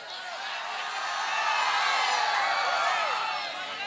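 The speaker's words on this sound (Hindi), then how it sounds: "ताली की गड़गड़ाहट जोर से" A stage event's crowd breaks into sustained, loud applause with scattered whoops and whistles, swelling through the middle and easing slightly at the end.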